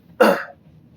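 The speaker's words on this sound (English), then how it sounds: "I'm trying to clear my throat." A single short, harsh throat clearing, close and loud, lasting under a second against a quiet background.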